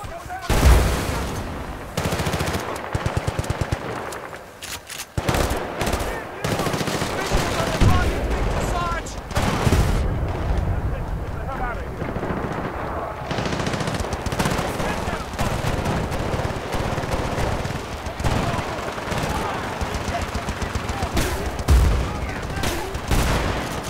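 Heavy gunfire from the Battlefield Bad Company 2 video game, a shotgun-style weapon mixed with dense bursts, booms and rapid automatic fire that barely let up, loud and close.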